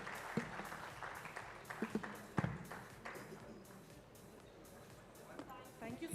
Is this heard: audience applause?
yes